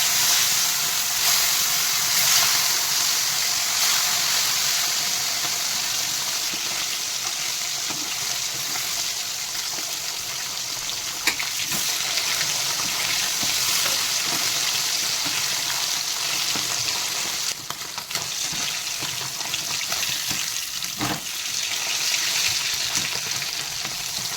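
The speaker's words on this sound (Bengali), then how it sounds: "এবারে তেল গরম হয়ে গেছে আমি তেলে একটা একটা করে মাছ ছেড়ে দেবো" Parshe fish rubbed with salt and turmeric fry in hot oil with a loud, continuous close-up sizzle and hiss, broken by occasional spatters and a few light stirring knocks.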